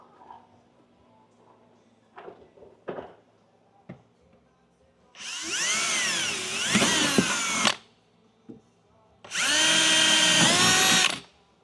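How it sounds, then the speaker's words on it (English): A power drill whirs in two sustained bursts, each a few seconds long, after some light clicks and handling knocks, drilling holes to mount a wing on a Corvette C8 Z06. "We're gonna go ahead and drill for these"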